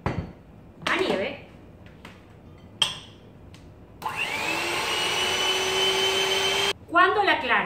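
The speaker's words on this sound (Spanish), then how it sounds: "vamos a batir la clara de huevo" Egg whites being whipped to stiff peaks with an electric mixer for spinach fritter batter: a steady, loud motor whine runs for about three seconds, preceded by brief clatter and clinks of kitchen utensils.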